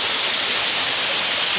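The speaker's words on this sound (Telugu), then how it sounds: "పై నుంచి వాటర్ పడుతున్నాయి ఫుల్గా" Steady, dense roar of water pouring from above at Venuthala Kona waterfall, a cold cave-like rocky spot, unbroken and close throughout with no voices.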